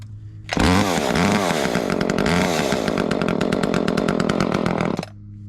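A chainsaw on a firewood cutting job fires up and revs hard, roaring loudly and close for several seconds with a rapid rattling chain before cutting out abruptly.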